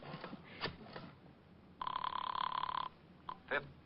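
Old-fashioned telephone bell rings in a steady burst lasting about a second, loud and close, in an old time radio detective drama, with quiet room noise and faint movement before and after.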